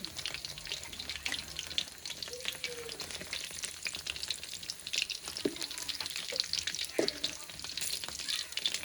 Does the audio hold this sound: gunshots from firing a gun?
no